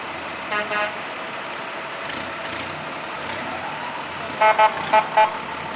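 A Town of Walden Fire Department truck rolls past in a spring festival parade, a steady engine rumble with short horn toots early on and a quick series of beeps near the end.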